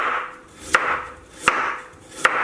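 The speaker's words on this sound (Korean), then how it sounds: "당근 썰어주시고" A knife slices carrots on a board as greens are prepared for a kimchi, giving three sharp, evenly spaced chops close by over a soft background hum.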